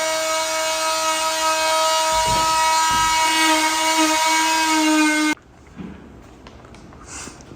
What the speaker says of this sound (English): Now they are cutting the sheetrock off the wall.